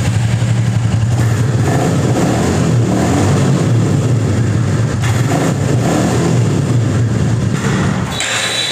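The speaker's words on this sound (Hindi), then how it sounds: "एग्जॉस्ट नोट मैं आपको एक बार सुना देता हूँ।" A Royal Enfield Classic 350 motorcycle runs close by with a steady thumping exhaust note, revving up and settling back across the clip, loud and alone before cutting off near the end.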